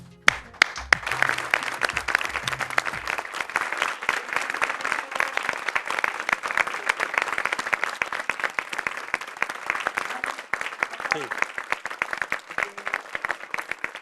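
Loud, sustained audience applause welcoming a guest on a TV show, dense clapping from a large crowd lasting throughout after a few opening claps.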